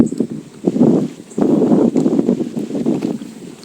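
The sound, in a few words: strong wind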